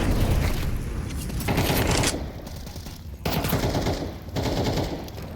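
Sustained automatic fire sprays through a wall in Counter-Strike, loud rapid bursts in several long strings separated by short gaps.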